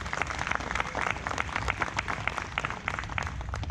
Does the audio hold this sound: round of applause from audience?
yes